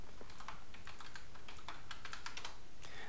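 Rapid keystrokes on a computer keyboard as a password is entered into medical reporting software, an irregular run of light, close clicks with no talk.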